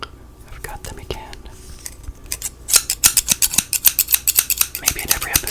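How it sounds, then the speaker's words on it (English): Close, crisp scissor snips, sparse at first then a fast rhythmic run of cuts, with faint whispering in between. "Last time I had scissors."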